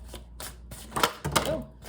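Tarot or oracle cards being shuffled by hand during a card reading, a few quick papery riffling bursts, close and moderately loud, with a faint voice in between.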